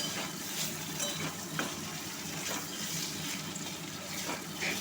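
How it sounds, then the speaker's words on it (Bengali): Boiled pointed gourd pieces fry in a pan while being stirred, a steady sizzle with soft scraping and clinks from the spoon throughout, close and moderately loud, with no voices. "ওগুলো দিয়ে দিলাম, দিয়ে এবার খুব ভালো করে নেড়ে চেড়ে ভেজে নিতে হবে।"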